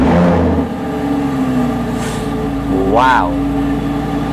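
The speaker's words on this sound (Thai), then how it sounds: "มีกุญแจแล้วเราก็จะสตาร์ทให้ดูนะครับ" A Lamborghini Huracan Technica engine starts up and revs in a confined space, a loud, steady rumble with a brief rising rev near the end and a voice exclaiming over it.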